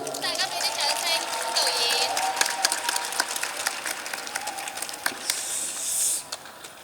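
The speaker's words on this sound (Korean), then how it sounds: "반요명 감독님에게도 큰 박수 드리겠습니다." A crowd at a Busan International Film Festival open talk applauds director Pan Yiu-ming alongside actor Chow Yun-fat, a dense outdoor wash of clapping with excited voices and a few shrill cheers rising above it.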